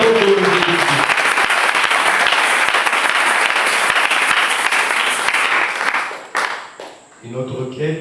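A church congregation bursts into sustained, loud applause for the Lord during a jubilee service, dense clapping that holds steady for several seconds before thinning out as a voice returns.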